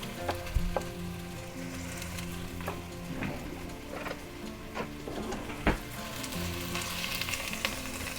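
Garlic and onions sizzle and fry in a pot, a steady soft crackle with occasional knocks and scrapes of stirring, close and fairly quiet with no talk.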